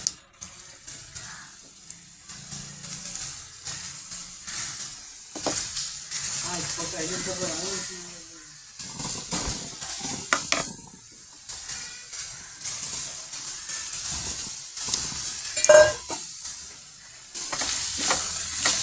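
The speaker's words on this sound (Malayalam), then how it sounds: "ഇനി പാനിൽ വെളിച്ചെണ്ണ ഒഴിച്ച് ഫ്രൈ ചെയ്തെടുത്താൽ മതി." Unnakkaya balls deep-fry in hot coconut oil in a pan, with bursts of crackling sizzle that rise and fall, broken by handling clatter, stirring and quieter gaps, and a sharp clink near the end.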